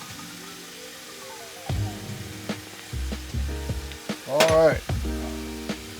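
Skirt steak seasoned with salt and pepper sizzles in a hot pan with a steady crackling hiss, under faint clinks and scrapes of a utensil and a short spoken remark.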